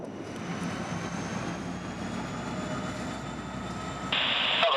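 FEC freight train 29F rolls over a lowered movable bridge span in Jacksonville, a steady, moderately distant rumble of wheels and engine that grows slightly louder near the end.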